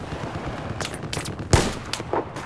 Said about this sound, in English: Who's freaking shooting at me?